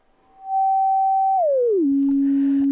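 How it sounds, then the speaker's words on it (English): A pure electronic sine tone from the self-oscillating filter of a Joranalogue × Hainbach Collide 4 holds steady, then glides smoothly down to a lower pitch and sustains, with faint clicks and noise near the end. "the self-oscillating sine waves that come out of the filter on here"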